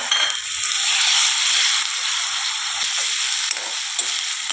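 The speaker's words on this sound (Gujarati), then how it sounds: "આ રીતે એને મિક્સ કરી દઈશું ડુંગળી સાથે, તેલ સાથે, જેથી બરાબર લસણ મરચાં પણ શેકાઈ જાય." Garlic-chilli paste and onion sizzle steadily in hot oil while being stirred for a Gujarati galka (sponge gourd) curry, a continuous close frying hiss with faint scraping, no voices.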